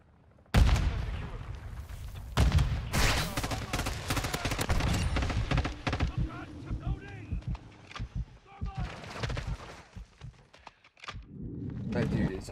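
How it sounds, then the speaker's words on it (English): Gunfire and explosions in Call of Duty Modern Warfare II, with a sudden loud blast followed by bursts of shots and rumbling booms, tapering toward the end; a voice talks over parts of the fighting. "Throwing grenade!"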